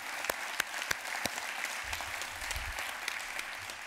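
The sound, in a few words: audience applause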